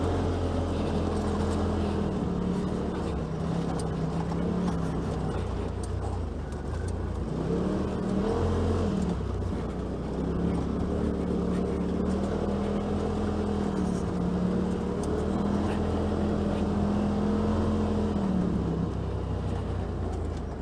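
2018 Polaris RZR XP Turbo side-by-side driving along a snowy trail, its engine droning steadily with rising and falling revs throughout, moderately loud and without speech.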